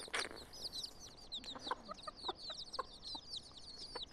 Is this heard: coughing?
no